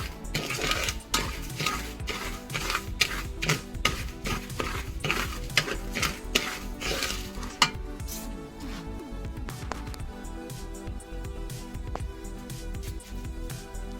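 Sugar is being roasted and stirred in a pan for a homemade nannari sharbat, with a metal spoon scraping and clinking in quick rhythmic strokes that slow and thin out toward the end.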